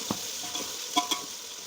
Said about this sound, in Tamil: கிண்டி கொடுத்து வெங்காயத்தை ஒரு 10 நிமிஷத்துக்கு நல்லா வதக்கிக்கோங்க.